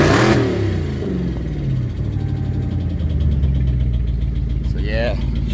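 A Dodge Charger fitted with a swapped 392 engine that needs a new motor runs and revs loudly, its deep engine rumble holding steady throughout with a brief higher sweep near the end, while people talk over it.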